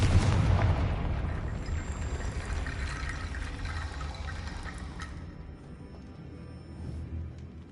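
Confringo spell blast in Hogwarts Legacy, a loud rumbling explosion with a heavy low boom at the start, trailing into a long roaring, watery-sounding decay with no talk.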